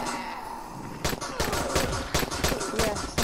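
Pistol gunfire in the zombie survival video game Dying Light: after a second of quiet ambience, a rapid series of sharp, loud shots rings out, close and punchy, firing in quick irregular bursts with some background game noise.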